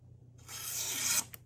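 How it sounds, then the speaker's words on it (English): A Kizer Critical Mini pocket knife slices diagonally through a sheet of paper, a single quick, close, dry rasping swish lasting under a second, followed by a tiny tick. "We're going to be using the Kizer Critical Mini on a paper slice."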